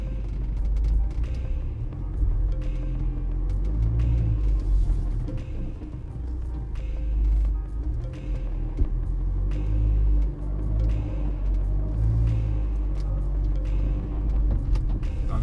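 Jaguar F-Pace diesel SUV driving, a steady low engine rumble from inside the cabin with mild rises and falls in revs throughout.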